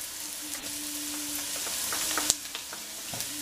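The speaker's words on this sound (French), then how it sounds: "On va rajouter l'ail." Softened onions fry in a pan as garlic is added, giving a steady, fairly quiet sizzle with a few small clicks and one sharp tap, and no talking.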